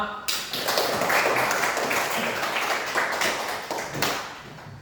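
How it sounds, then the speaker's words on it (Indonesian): A classroom of students applauds their group work, a dense burst of hand clapping that swells then fades over a few seconds, with voices mixed in. "Tepuk tangan untuk kita semua."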